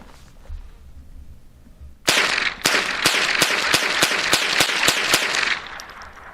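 Savage Model 64 semi-automatic rimfire rifle firing Winchester ammunition: about ten sharp, loud cracks in a fairly steady, quick rhythm. They start abruptly after a quiet moment and stop when the magazine is empty.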